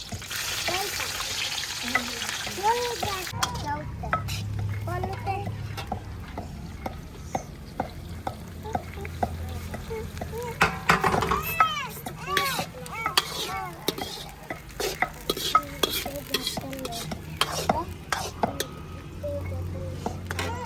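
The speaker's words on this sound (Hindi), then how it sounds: "मैं अब प्याज जो है भूनता हूँ।" Onions frying in ghee in a pot for chicken biryani, a steady sizzle with stirring scrapes and occasional utensil clinks, while someone talks over it at close range.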